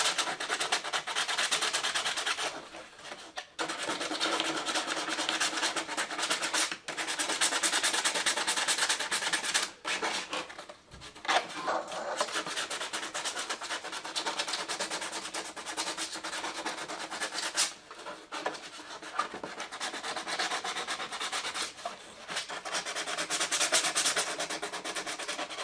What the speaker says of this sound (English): I'll just sand around just on the lip there